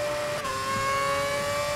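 A Formula 1 car engine in the racing game F1 2011 at the Belgium circuit, a steady high-pitched whine held at constant pitch and loud, with no talk over it.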